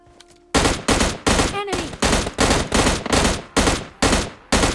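Rapid bursts of gunfire in PUBG Mobile Lite: about nine loud, evenly spaced shots ring out one after another, each sharp and close, with a short high whistle between the early shots.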